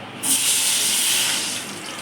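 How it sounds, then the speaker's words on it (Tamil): Beetroot juice is poured into a hot pan of ghee for beetroot halva, setting off a sudden loud, sustained steamy hiss and sizzle that holds steady for about two seconds before easing slightly. "இப்போ அதுலேயே நம்ம பீட்ரூட் சார் எடுத்திருக்கோம் அதை வந்து ஊற்றுறோம்"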